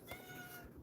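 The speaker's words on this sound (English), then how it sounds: "Cat wanted in." A cat meowing to be let in, one drawn-out plaintive meow that seems muffled and somewhat distant, as if from behind a door, with no other sound over it.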